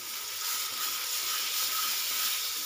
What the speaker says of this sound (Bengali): এবার বন্ধুরা এই মশলাটা আমি ভালো করে কষিয়ে নেব।